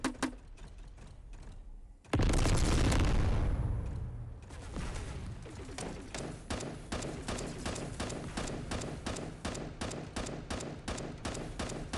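Combat mortar fire in the robot-combat game Bot Machines sets off a loud blast followed by a rapid, regular stream of sharp impacts and crackling bursts that keep firing steadily to the end.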